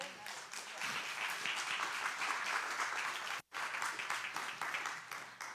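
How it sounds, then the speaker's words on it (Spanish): A church congregation gives a round of clapping, an even wash of many hands at middle distance, cut by a brief dropout, with faint voices underneath. "Dele palmas al Señor, hermano."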